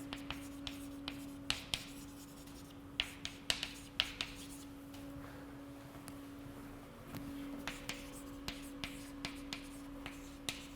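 Chalk or marker tapping and scraping on a board during a physics lecture on quantum field theory, a series of sharp irregular ticks and short strokes over a steady electrical hum, no talking.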